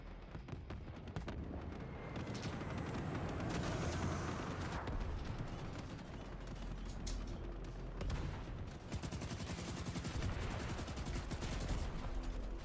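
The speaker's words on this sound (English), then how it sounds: "That's some bad shooting right there." Video game gunfire pops in dense, rapid bursts, with machine-gun-like rattles and booming blasts layered throughout, continuous and fairly busy.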